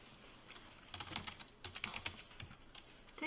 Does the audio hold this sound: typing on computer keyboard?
yes